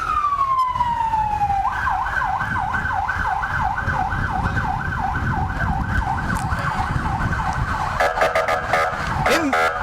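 Fire engine siren wailing loudly and close in a small-town festival parade, from Tippecanoe Fire and Rescue Engine 942, a Ford F-250 carrying a hose reel and tanks, its rising-and-falling cycles repeating steadily over road and crowd noise, with horn-like blasts near the end.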